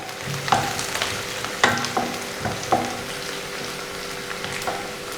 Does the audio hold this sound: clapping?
no